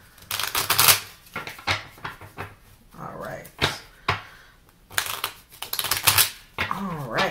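A Lynn Stride mini tarot deck is shuffled in quick papery riffles and clatters, close and crisp, with brief stretches of a voice speaking between the bursts.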